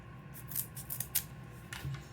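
Scissors snip through a thin part of a handmade DIY violin body, giving several short, close cuts in an uneven rhythm with no talking.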